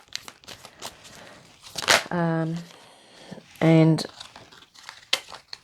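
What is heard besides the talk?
shuffling a deck of tarot cards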